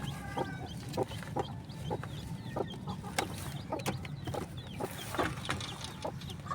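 A silkie hen clucks softly and repeatedly close by in a backyard, with thin high peeps from a newly hatched chick scattered through the steady murmur of the coop.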